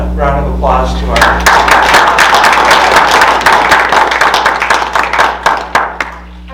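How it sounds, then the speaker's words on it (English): A round of applause at a school board of education meeting, many hands clapping close and loud right after a voice, fading into scattered final claps. "round of applause to our"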